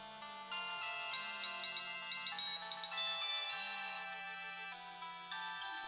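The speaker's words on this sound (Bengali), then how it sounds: "ডক্টর রয়ের ফোন" A phone ringtone plays in a Bengali TV serial scene, a repeating electronic melody over a soft low tone that rises and falls in regular bursts.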